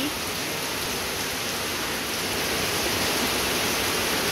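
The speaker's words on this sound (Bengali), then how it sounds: "কি বৃষ্টির আওয়াজ" Heavy rain pours in a dense, even hiss that stays loud and unbroken throughout, close by, with no voices.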